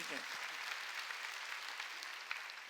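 A church congregation applauds at a Sunday service, steady dense clapping from many hands filling the room for a few seconds, moderately distant.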